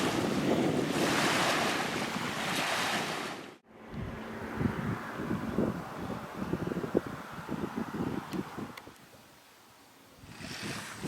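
Waves and wind at Arrowhead Beach on Seventh Lake near Inlet in the Adirondacks: broad wind roar and microphone buffeting, then lapping surf with irregular splashes, close and fairly loud, no voices.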